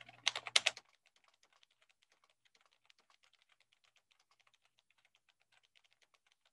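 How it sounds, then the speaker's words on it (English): A short, quick burst of typing on a computer keyboard, picked up by a webcam microphone, clicks close and crisp for under a second before the room falls nearly silent. "I'm going to do just a little bit of typing so you can hear what that sounds like"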